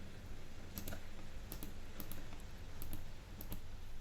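Keys tap on a computer keyboard in a quick irregular run of crisp clicks, ending with a press of Enter, close up over a steady low hum.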